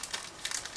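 A small plastic bag holding a clear plastic sprue frame from an ICM 1/35 Wehrmacht 3t truck model kit crinkles faintly in the hands, with several brief crackly rustles close by and no talk.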